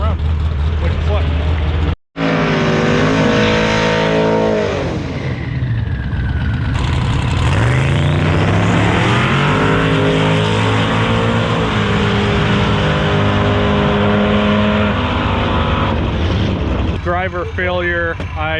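A Nova drag race car makes a pass at the track, its loud engine revving hard through rising and falling gear sweeps across the run, with voices audible over the roar.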